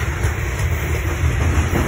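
Freight train rolling out of a rail yard in Whitefish, Montana, heading westbound: a steady, loud low rumble of cars and engine with faint rail clatter, continuous throughout and without talk.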